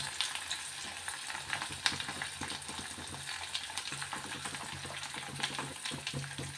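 Ginger and green chillies sizzle in hot oil for a lemon pickle, a steady close crackling hiss broken by occasional stirring scrapes.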